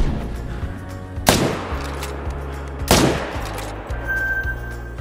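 Two sharp rifle reports ring out at a distance in the Call of the Wild hunting game, spaced a couple of seconds apart over a low steady ambient hum.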